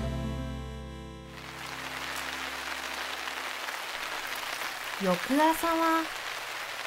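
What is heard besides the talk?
rain falling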